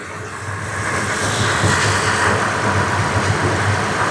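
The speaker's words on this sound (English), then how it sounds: "You can see the compressor turning there. There, it kicked in again." A 2016 Toyota Tacoma idles with its AC compressor running, a steady close engine hum with a slight swell as the compressor load comes on, no voices.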